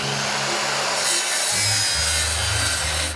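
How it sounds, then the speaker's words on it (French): A chainsaw cuts through a chocolate bar, a loud, steady buzzing grind with a low engine drone beneath that shifts pitch midway through and runs continuously without pause. "Une tronçonneuse, cependant, pourra le faire."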